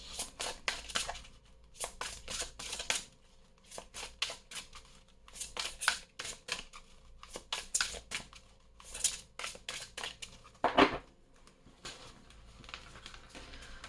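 Tarot cards are shuffled for a reading, with repeated crisp riffling bursts and soft card slaps in an uneven rhythm, close and fairly quiet, with no talking.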